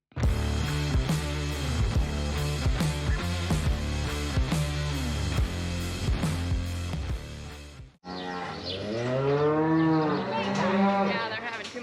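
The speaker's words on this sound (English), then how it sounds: "Mom is getting all the cows in the pen" Cattle on a farm moo loudly and repeatedly as they are driven into a pen before breeding. Long, drawn-out calls follow one another close up, with a brief break before a final extended moo.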